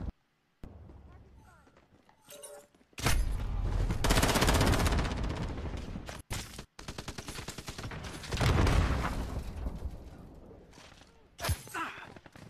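Shooter video game gunfire comes in loud, dense automatic bursts separated by short pauses and scattered sharp shots, with a person talking over parts of it.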